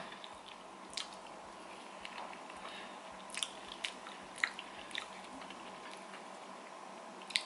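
Close, quiet chewing and biting of durian with sticky rice, with scattered soft sticky clicks and crunches over a faint steady background hiss and no talk.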